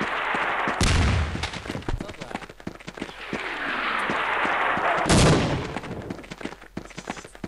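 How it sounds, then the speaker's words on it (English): Loud explosions and bursts of gunfire from bombs in the video game Half-Life: Opposing Force, with two heavy blasts near the start and middle and rapid crackling shots between them. "Quit shooting me with bombs. Hand bombs."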